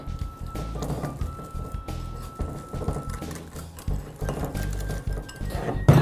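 Miso honey glaze being stirred with sesame oil in a bowl for ribs, with steady soft clinks and scrapes of a utensil against the bowl, close and continuous, under light background noise.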